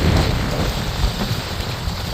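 Heavy rain and gusting storm during Cyclone Remal on the Bangladesh coast, a dense, steady roar of downpour with low rumbling, loud and continuous throughout with no talk.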